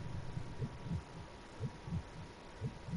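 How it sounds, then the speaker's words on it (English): Soft, muffled heartbeat from the video game The Quiet Man, a steady series of low double thumps repeating roughly every second over a faint background hum, with no one talking. "I hear a heart beating, but..."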